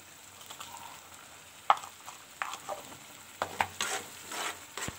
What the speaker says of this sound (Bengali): এটাকে খুব ভালো করে অল্প আঁচে ভাজতে হবে